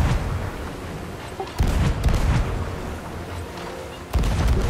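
Ship cannons fire in a naval video game, two heavy booms standing out from a dense rumbling battle soundscape with scattered crackling shots, loud and close.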